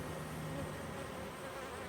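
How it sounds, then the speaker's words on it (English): Dense, steady buzz of a crowd of honey bees inside a hive box, close and continuous with no voices. "again, tons of bees"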